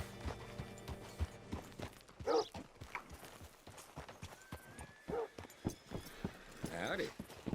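Horse hooves clip-clopping at a steady walk in Red Dead Redemption 2, soft and fairly close, with occasional voices talking over the hoofbeats and a brief whinny-like sound.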